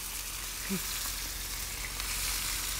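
Blistered heirloom cherry tomatoes with onions and herbs warming in a pan, a faint steady sizzle running throughout with one brief stir near the start.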